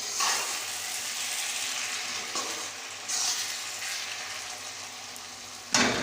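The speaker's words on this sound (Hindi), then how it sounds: "तो हम ये ना साबुत 3 मिर्च इसमें डाल देंगे, थोड़ा सा टेस्ट को डेवलप करने के लिए।" Three whole chillies fry in hot oil in an iron kadhai, making a steady loud sizzle with brief crackling bursts as they are stirred close by.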